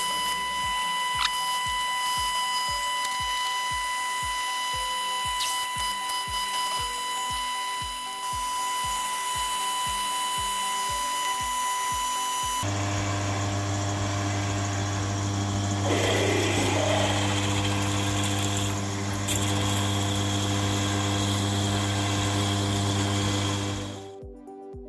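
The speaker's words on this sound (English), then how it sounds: "I now run down through with an 8mm drill to open up to full size." A WM250V milling machine running at about 240 to 250 rpm, drilling holes in a fixed toolpost with an 8mm drill; a steady motor hum with rhythmic cutting pulses, then a louder, deeper drone.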